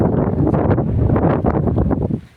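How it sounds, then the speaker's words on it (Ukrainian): Cold wind gusts steadily across an outdoor garden plot, roaring loudly and continuously into the microphone before easing off near the end. "Кожен день вітер, вітер, вітер, холодний"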